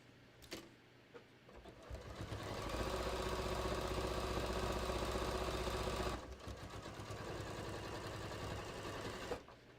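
A sewing machine stitches the bottom seam of a beach tote, starting after a few faint clicks, running in a steady fast whirring burst for a few seconds, then continuing more lightly before stopping, close and fairly quiet.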